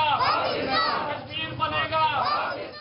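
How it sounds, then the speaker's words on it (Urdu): A protest rally crowd chants slogans in support of Kashmiris, a dense, loud mass of voices rising and falling in rhythmic waves throughout the short stretch. "مظاہرین نے کشمیریوں کے حق میں نعرے لگائے۔"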